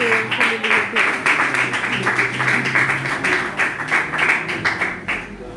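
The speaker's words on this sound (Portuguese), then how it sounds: "E as palmas para Jesus." Church congregation clapping for Jesus during a Portuguese-language evangelical service, a steady crowd applause with voices and shouts mixed in throughout, loud and continuous before easing slightly at the end.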